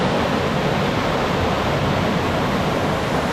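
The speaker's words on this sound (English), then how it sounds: "This is the junction of the Papara stream and the Tangaro River." Water flows steadily at the junction of the Papara stream and the Tangaro River, a loud, close, unbroken rushing hiss with no voices over it.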